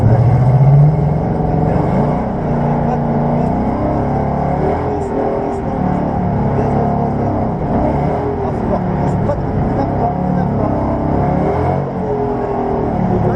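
A Ford Mustang engine revs and rumbles steadily while drifting on a track at La Ferté-Gaucher, loud and continuous, with a voice talking over it throughout.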